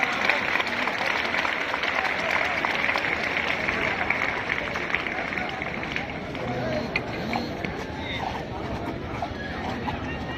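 An audience gives rousing applause to welcome a guest at a school flag hoisting ceremony with a march past. Steady clapping and crowd noise continue throughout while an announcer speaks over it.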